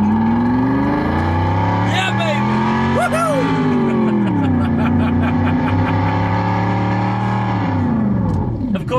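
A SoundRacer V8 engine sound simulator in a family car puts out a deep, throaty V8 rumble that rises and falls with the throttle. Excited voices cheer and whoop over it.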